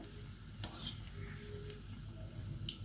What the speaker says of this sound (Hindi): ये इसमें तेज़ आंच पे फ्राई करें, क्योंकि अंदर सब कुछ पका हुआ है। इस चम्मच से हिलाएं।